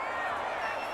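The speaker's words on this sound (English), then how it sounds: "This home crowd, they're happy with that call." A stadium crowd in the Madden NFL 21 football video game roars in a dense, steady wash of cheering for about a second.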